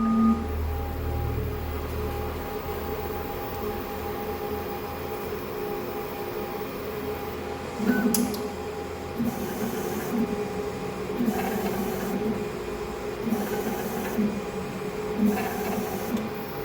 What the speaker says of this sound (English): Now the printing will start.